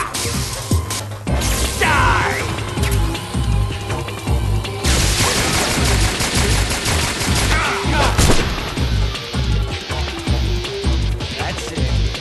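Loud sustained gunfire in Metal Gear Solid 3: Snake Eater during a boss fight, rapid shots and bursts layered with crashes and booming impacts over game music and effects.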